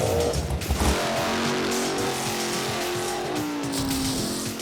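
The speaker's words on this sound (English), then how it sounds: "We're talking drag racing, and we don't mean watching from your couch or the bleachers." A drag racing car accelerates hard, its engine roaring loud and steady as the tires squeal continuously under full power, with no voices.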